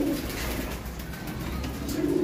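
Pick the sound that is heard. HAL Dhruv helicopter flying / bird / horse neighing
bird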